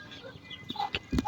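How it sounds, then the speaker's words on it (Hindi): A hen sitting with her chicks in a village yard gives a few short, soft clucks and murmurs, close by, over faint background noise. "ये देखो ये ऊपर जो है ना मुर्गी बैठी हुई है अपने बच्चों को"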